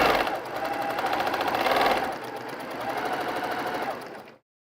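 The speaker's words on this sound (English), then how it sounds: "I'm going to be sewing these little blocks with a 1/4 inch seam" Sewing machine stitching small cotton quilt blocks with a quarter-inch seam and cotton thread: a fast, steady mechanical whirr with rapid needle ticking, close and continuous, briefly dipping in pace before stopping abruptly.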